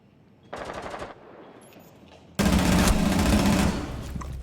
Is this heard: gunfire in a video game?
yes